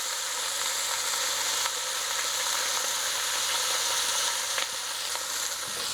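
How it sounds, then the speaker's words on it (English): Pot roast beef sears in a hot pan, giving a steady, loud, crackling sizzle that runs throughout, with a few faint clicks near the end. "I kind of want to get that sear on the other side"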